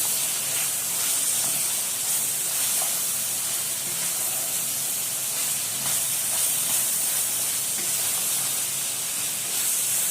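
Peppers and onions fry with Alexandrian-style liver in a pan, giving a steady, loud, hissing sizzle that stays close and constant, with faint stirring beneath.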